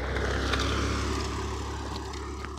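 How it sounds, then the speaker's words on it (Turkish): A motorcycle passing by close, heard as a loud, steady engine drone that fills the whole stretch and eases slightly toward the end, with no voices. "Şimdi bir tane daha motosiklet geliyor."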